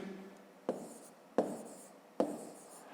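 A pen writes numbers on paper for a fifth-grade column addition exercise: three quiet, separate scratching strokes, each starting with a soft tap, evenly spaced and close.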